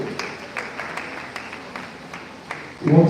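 An audience at an inter-tertiary debate competition gives scattered applause, with faint claps recurring at irregular intervals before a louder burst swells at the end.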